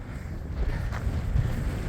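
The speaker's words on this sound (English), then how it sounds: "it's super windy up here" Strong wind on the Big Bald mountain summit along a hiking trail roars as a steady, low buffeting rumble against the microphone, with no voices.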